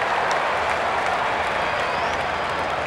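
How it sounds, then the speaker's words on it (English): A baseball crowd at a 1993 San Francisco Giants at Atlanta Braves game roars steadily after a pitch, a dense, sustained wash of cheering that holds level throughout. "The crowd roared as if that was a strike"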